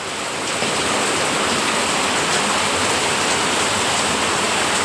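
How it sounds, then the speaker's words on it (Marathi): Heavy rain pours down outdoors in a loud, dense, unbroken roar that fills the whole stretch with no voices. "तेवढं एकदम जोरदार पाऊस आला आहे."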